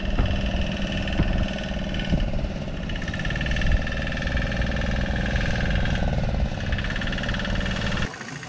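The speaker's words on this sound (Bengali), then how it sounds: "এই দেখো একটা নৌকা ঢুকছে" A fishing boat returning from a catch enters the harbour at Gopalpur sea beach, its engine chugging loud and steady with a constant throbbing drone that holds through the whole stretch and drops off near the end.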